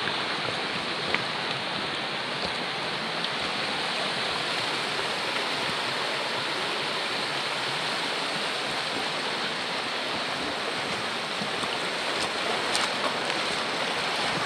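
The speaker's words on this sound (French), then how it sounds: "ça coule de partout, hein." A swollen stream after a storm at Ruisseau des Champs du Poix near Coulans-sur-Lison pours and rushes steadily, a dense, constant wash of flowing water close by, unbroken and without voices.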